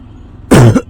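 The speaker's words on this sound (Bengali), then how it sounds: "সরি কাশি দেওয়ার জন্য" A single loud, close cough bursts out from someone with a cold, followed by the start of another cough at the very end, with no talking.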